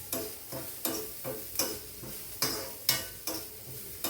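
Onions and curry leaves fry in hot oil in a pan, a steady close sizzle broken by a regular rhythm of scraping stirring strokes about every half second.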